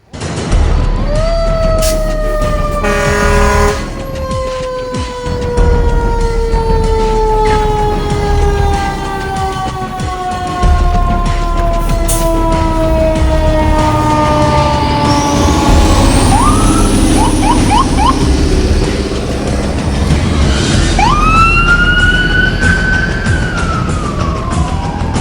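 A Columbus fire engine responding with a loud wailing siren sweeping up and down, close by and passing, mixed with truck engine rumble, horn blasts and an air brake hiss.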